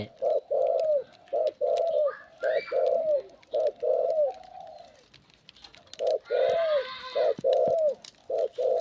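A dove coos repeatedly in short, evenly spaced phrases, close and clear, with faint chirps from other birds now and then.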